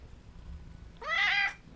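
A black cat gives a single clear meow, a short rising-and-falling cry lasting about half a second, close by against a quiet room.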